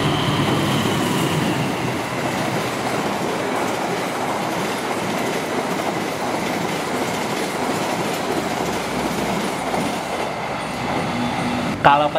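The Argo Laut passenger train rumbles steadily past at close range near Klari station, wheels clattering on the rails in a continuous broadband roar, ending with a brief high squeal.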